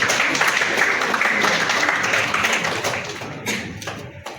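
Audience at a Karur Angels Club installation ceremony clapping in a steady, dense patter of applause that fills the room, then thins and tapers off toward the end.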